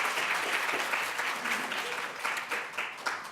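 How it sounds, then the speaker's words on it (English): An audience at a startup-week keynote applauds its winners, a steady dense clapping sustained throughout at moderate distance with faint speech mixed in. "Let's give all of our winners a big round of applause one more time."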